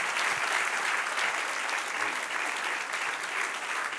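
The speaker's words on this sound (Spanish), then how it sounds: "Dele un aplauso al que vive y reina" Dense, even applause from a church congregation fills the space continuously, a steady wash of many hands clapping with no clear speech over it.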